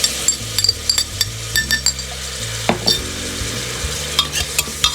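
Spices for Sindhi daal stir-fry in a hot pan, with a steady sizzle under repeated scraping and clinking strokes of a spoon against the metal, close and fairly loud.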